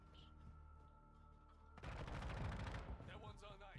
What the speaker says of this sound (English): But I'm getting shot.